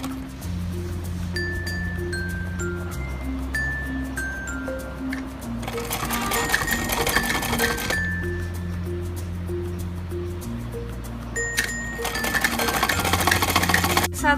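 A sewing machine stitching a kurti runs in steady bursts, its motor hum and rapid needle clatter loud and close, pausing and restarting several times, with faint clinks in between.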